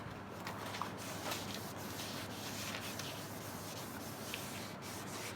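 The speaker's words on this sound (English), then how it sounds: "if you see that the headlight is all cloudy, that's the way it's supposed to be when you're sanding it." A cloudy car headlight is wet-sanded by hand with 1000 grit sandpaper, a soft, steady rubbing scrape that goes on evenly throughout, close up and fairly quiet.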